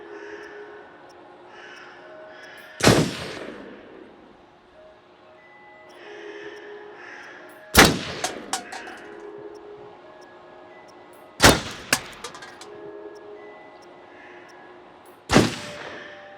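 Four separate gunshots in the horror video game Until Dawn on PS4, each a sharp crack followed by a short echoing tail, spaced several seconds apart against quiet ambient background tones.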